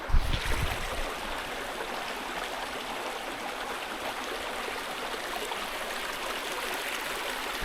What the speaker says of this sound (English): We've got a babbling brook.